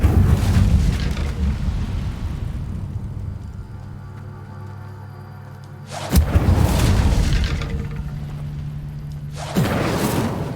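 A fire spell is cast in the video game Hogwarts Legacy, giving deep booming whooshes. A sustained roar is followed by two sharp fiery bursts near the end.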